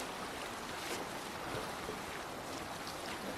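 A Viking longship sails over ocean waves in Assassin's Creed Valhalla, a steady wash of water and wind rushing evenly throughout, fairly faint and without voices.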